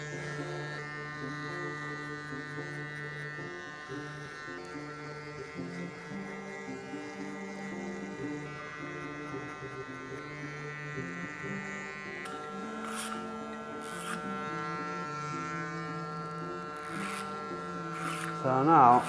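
Electric hair clippers with a locking arm cutting hair, giving a steady, close mechanical buzz with a constant hum that runs the whole time, with some talk over it.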